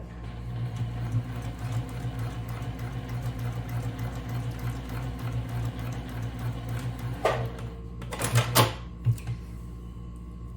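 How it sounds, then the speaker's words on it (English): Sewing machine top stitching a fabric tab on a bag, a steady close mechanical whir with rapid rhythmic needle clatter that runs throughout, followed by a few sharp clicks and clunks near the end. "Now I'm going to top stitch here on this side of the tab."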